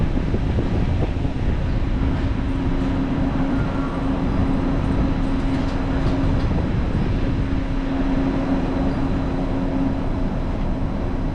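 Disneyland monorail gliding along its elevated track toward the Tomorrowland station, a steady loud rumble with a faint sustained whine, wind buffeting throughout, no talk.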